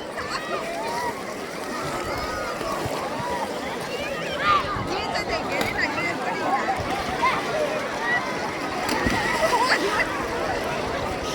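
Splashing and sloshing in river water as someone dunks their head under at a river spot, with busy mid-level splashes running throughout and voices talking over the watery commotion.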